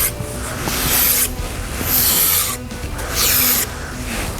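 Gritty, sandy scraping comes from a rear suspension part on an S197 Mustang as it is worked with a pry bar, three loud rasping strokes close by, separated by brief quieter gaps.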